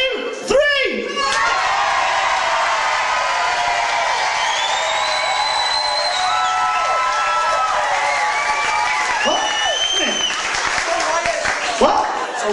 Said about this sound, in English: And then they'll all give you a round of applause.